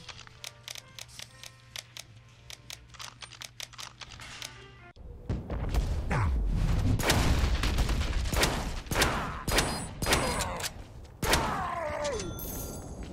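Shotgun fire in a Deadpool action video game, with a burst of heavy booming blasts and chaotic combat noise dominating the second half after a quieter stretch of game sounds.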